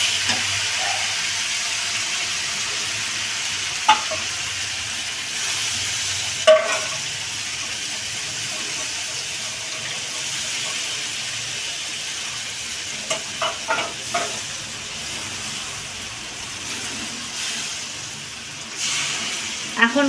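A ground paste of cumin, coriander, tomato and ripe red chili sizzles in a pan for a cauliflower and soybean curry, a continuous close frying hiss with occasional utensil clinks.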